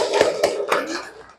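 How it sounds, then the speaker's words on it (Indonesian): Classroom students clap their hands in a few quick, loose bursts, close and moderately loud over a murmur of voices. "tepuk tangan dulu dong buat kita semua"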